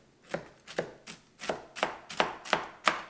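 A large knife finely chops ingredients on a board in eight evenly spaced, crisp thuds, close and moderately quiet, with no voices.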